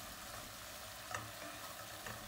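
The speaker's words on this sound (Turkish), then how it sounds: "Ben yüksek ateşte mantarlarımı karıştırarak kavurdum." Mushrooms stir-fried over high heat in a pot with onions, giving a quiet, steady sizzle with a few faint stirring scrapes, no voices.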